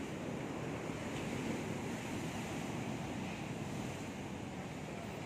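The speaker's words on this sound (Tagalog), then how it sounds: "Lalaki ng alon." Big ocean waves at a beach produce a continuous broad roar of surf with wind buffeting the microphone, steady and fairly distant with no speech.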